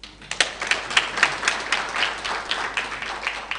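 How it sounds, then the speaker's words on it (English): Workshop audience clapping for the CEO, a moderately sized group giving scattered, uneven claps that build and continue steadily for several seconds. "I want you to give her a clap and thank God for her"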